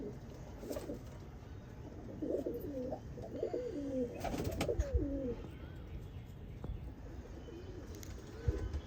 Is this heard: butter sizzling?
no